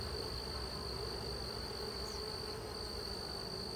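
Thousands of honey bees hum inside a nuc hive in a bee yard, a constant close buzz with thin steady high tones running through it and no voices.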